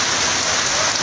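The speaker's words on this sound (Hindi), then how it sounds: "बहुत ज़ोरों से बरसात हो रही है।" Heavy rain pours down at Shri Kolayat, a dense, loud and continuous hiss of drops striking surfaces close by, with no voices.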